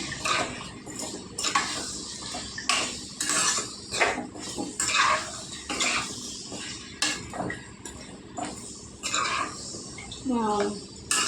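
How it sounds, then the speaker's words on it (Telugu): Potato pieces tossed with salt and turmeric in a metal vessel, spoon clinking and scraping in repeated bursts, close and fairly loud, with background voices. "వేసి ఉప్పు పసుపు బాగా పట్టేలాగా ముక్కలకి కలుపుకుందాం."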